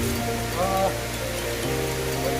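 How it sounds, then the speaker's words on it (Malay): Heavy rain falling on a bamboo-lined forest path in Sabah, Borneo: a dense, steady wash of rainfall noise filling the scene, with faint tonal hums and a brief voice-like murmur underneath. "Sampai di sini hujan lebat pula."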